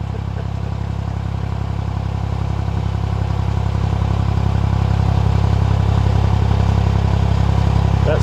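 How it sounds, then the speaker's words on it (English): Narrowboat diesel engine chugging steadily on a canal, a loud, even low rumble that swells slightly as another boat approaches, with no clear talk. "And here's another boat coming."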